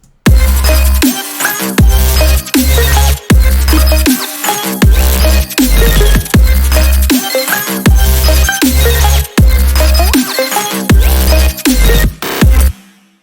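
A loud electronic rhythm drop pounds with heavy, booming bass hits and dense layered synths, chopped by brief gaps into a driving, stop-start groove.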